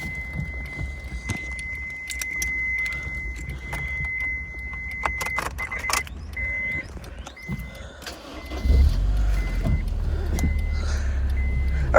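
A 2007 Honda S2000 starts up after keys jangle and a chime rings, its engine catching late and settling into a steady, low exhaust idle close by.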